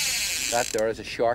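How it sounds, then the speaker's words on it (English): A fishing rod reel's ratchet clicker whirs in short buzzing bursts while a line is pulled during a 1992 shark hunt, heard under a man's speech. "What you hear the ratchet of your rod."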